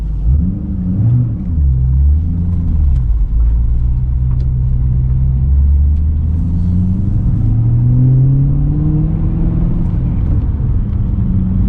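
A 2007 Shelby GT500 with a cat-back exhaust cruising down the road, heard from inside the cabin as a loud, steady low engine rumble with rising and falling tones as it shifts and accelerates.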